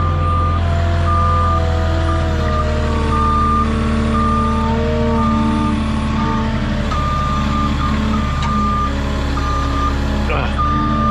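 A forklift reverses on a snow-covered hillside, its reverse alarm beeping steadily and loudly over a constant engine rumble, with brief speech in the background.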